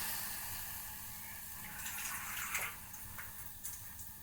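Water poured onto sugar in a pan for making syrup, a steady broadband pouring wash with brief splashy bursts near the end, close and moderately quiet.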